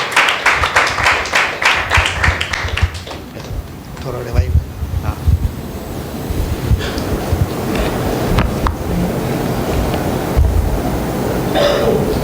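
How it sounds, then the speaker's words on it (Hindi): Congregation applause in a church service rings out as dense, crackling clapping at the start, then fades under a reverberant hall ambience while someone speaks. "एक जोरदार ताली देते हैं प्रभु यीशु मसीह के नाम से"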